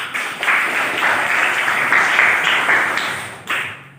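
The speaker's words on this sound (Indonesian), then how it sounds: "Tepuk tangan untuk teman kalian" A classroom of students bursts into applause for a classmate, a dense close burst of many small hands clapping for about three seconds before it trails off.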